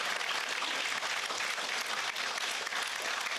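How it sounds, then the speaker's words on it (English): Steady, dense applause from a large crowd, continuous clapping filling the whole moment without pause or voices on top. "A big round of applause for everyone in this room."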